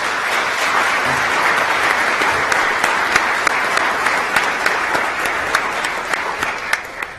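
An audience at a Florida pro bono lawyers' awards ceremony claps for the honorees, a steady, full round of applause running throughout with occasional sharper individual claps standing out, no speech over it.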